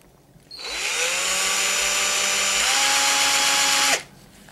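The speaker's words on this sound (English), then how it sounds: "You want to stick it in a drill, turn it." A power drill spins a tungsten TIG welding electrode to sharpen it: a sharp start-up, then a steady loud whirring hum with a slight pitch shift partway through, cut off abruptly as the drill stops.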